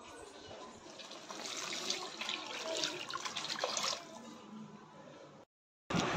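Water pours and splashes into a pot of cooking fish besara for several seconds, a steady rushing trickle that fades before a brief silence.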